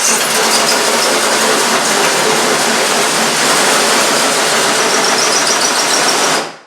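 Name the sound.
drill with cutting bit drilling a hole in shower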